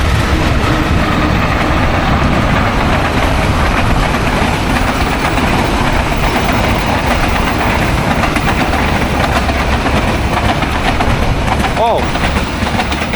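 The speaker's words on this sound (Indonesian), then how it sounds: "sebelumnya aku mengucapkan minta maaf karena ada kereta" A steady, loud rumble of a passing passenger train in Indonesia with continuous rolling noise throughout; people talk over it.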